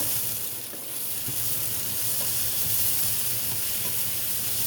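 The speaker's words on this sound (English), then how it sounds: "I'm gonna let this saute, turn my eye down some more." Onion and spinach sautéing in a pan for an omelet, giving a steady, close hiss and sizzle that runs unbroken throughout, with no voices.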